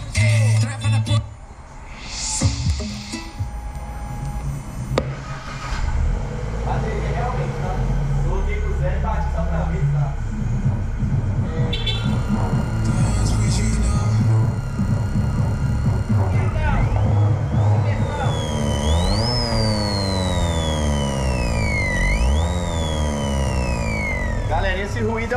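A car engine starts and revs hard at a car audio shop, with rising and falling engine pitch in the final stretch. People talk and music plays loudly throughout.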